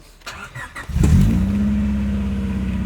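A Honda Civic engine catches and rises into a loud, steady drone after a few seconds of faint rattling, settling into a sustained hum close by with no talking.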